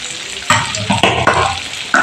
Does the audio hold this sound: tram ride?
no